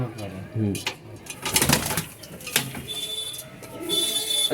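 Pigeons, among them Punjabi pigeons, coo in a backyard loft while people talk nearby, with a few brief bird calls mixed in.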